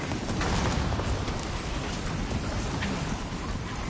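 Steady heavy rain pours down in a stormy Death Stranding 2 game scene, a dense continuous hiss with low thunder rumbling beneath, loud and close throughout with no voices.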